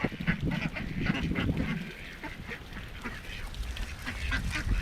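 Ducks quack in a noisy cluster close by, with outdoor background noise behind them.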